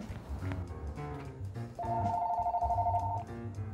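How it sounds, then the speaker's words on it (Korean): A telephone rings in a Korean-style restaurant, giving a steady electronic warbling trill that lasts a little over a second over a background of kitchen clatter and murmur. "효주야, 전화 좀 부탁해."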